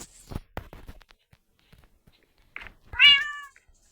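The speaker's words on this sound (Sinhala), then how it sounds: "මේ අපි පූසා" A cat meows once, loud and close, in a Minecraft game, after a series of soft footstep taps and clicks in an otherwise quiet scene.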